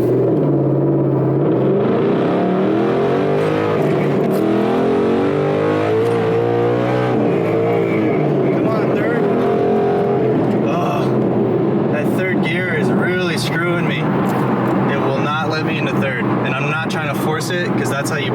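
A 5.0 V8 car fitted with a Boss 302 intake manifold and an MT-82 manual gearbox accelerates hard on rough pavement during a 0-60 run, its loud engine rising in pitch through the gears alongside ongoing talk inside the car.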